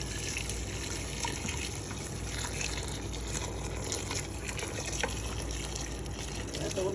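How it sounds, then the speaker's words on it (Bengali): Hot water pours steadily into a pot of mutton, a continuous close rushing gush that runs unbroken throughout. "পানি দিব যেন মাংসটা একটু ডুবে যায়"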